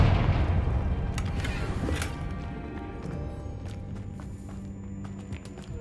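A Confringo blasting spell goes off in the Hogwarts Legacy video game, opening with a heavy burst and rolling rumble that fades into scattered crackles and thuds, with no talk.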